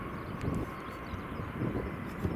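A Brussels Airlines airliner in special livery at Brussels Airport gives a steady, moderately distant engine roar with a low rumble, broken only by faint wind buffeting.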